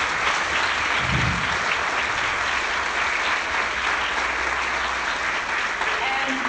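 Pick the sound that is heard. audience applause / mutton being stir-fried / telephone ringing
audience applause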